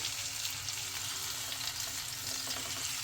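Food frying in ghee in a pan gives a soft, steady sizzle with faint crackles, even and unbroken throughout, with no voices.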